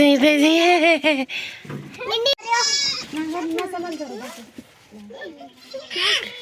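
A young goat bleats loudly and repeatedly, high and wavering, while people talk nearby.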